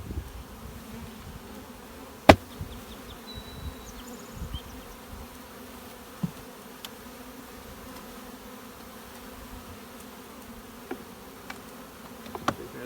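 Honeybees hum low and steady in an open hive during a swarm inspection, a continuous close drone broken by an occasional sharp knock or click from handling the frames.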